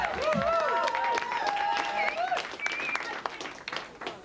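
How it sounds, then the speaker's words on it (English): An evening audience applauding a compere, a dense wash of clapping with cheers and voices shouting over it, loud and sustained throughout. "Ladies and gentlemen, round of applause, please, for your compere for the evening"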